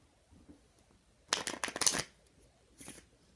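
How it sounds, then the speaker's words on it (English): A deck of playing cards is shuffled close up during a card trick, with a quick burst of riffling flutters lasting under a second, then a shorter riffle after a pause, in a quiet room. "give the cards a nice shuffle"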